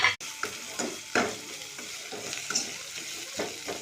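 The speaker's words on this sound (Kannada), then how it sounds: "ಸ್ವಲ್ಪ ಫ್ರೈ ಆಗಲಿ ಇದು" Chopped onions and green chillies with curry leaves fry in hot oil, a soft continuous sizzle punctuated by several stirring scrapes, close and moderately quiet.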